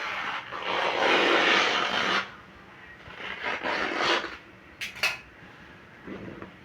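Scissors snipping through an old saree to cut it in half, a burst of steady rasping fabric-cutting for about two seconds, then softer intermittent snips and rustles close by with no talking.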